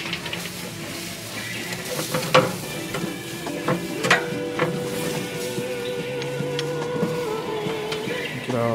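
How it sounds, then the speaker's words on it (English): Half an onion on the end of a stick scrapes across a hot grill grate, giving a steady sizzle with irregular scraping and clinking knocks, close and fairly loud. "take your onion, put it on the end of a stick, just clean your grill"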